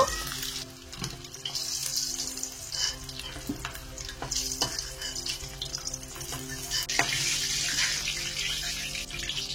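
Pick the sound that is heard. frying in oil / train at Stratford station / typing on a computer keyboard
frying in oil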